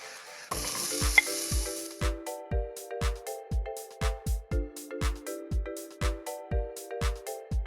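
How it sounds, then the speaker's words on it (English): Mushrooms, carrots, broccolini, potatoes and onion sauté in a pan. A brief burst of sizzling at the start gives way to rhythmic, tonal music that largely covers the frying. "So we're gonna go ahead and start sauteing these veggies"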